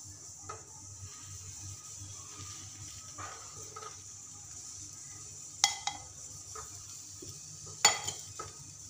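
Cucumber thalipeeth fries in oil on a pan with a soft, steady sizzle, broken by a few faint scrapes and two sharp metallic clinks of a utensil against the pan. No one speaks.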